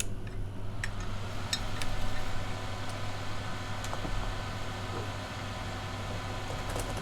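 A computer fan hums steadily and quietly at close range, a constant low whir with a faint broadband hiss, alone without talk, alongside a few light clicks.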